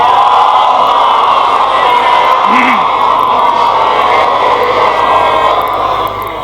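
A large crowd at a Shia majlis in Imamia Colony, Lahore, loudly recites salawat together, a dense, sustained roar of many voices filling the space with shouting and cheering-like intensity.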